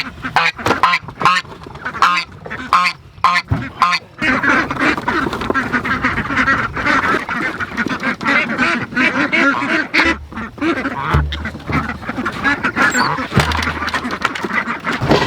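Ducks on a family homestead quack loudly and close by. Rapid bursts of calls come in choppy runs at first and then become a dense, continuous chorus of honking quacks.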